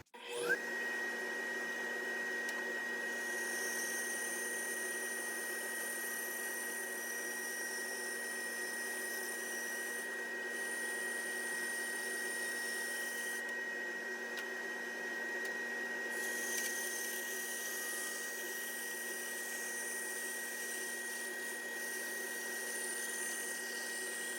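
A Grizzly G0944 1.5HP wall-mounted dust collector running steadily, a constant loud whirring motor drone with a faint whine, while a saw cut shows as brief shifts in the hiss partway through.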